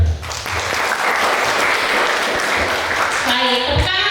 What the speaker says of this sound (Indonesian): tepuk tangan saya ini lebih meriah untuk kakak Arnold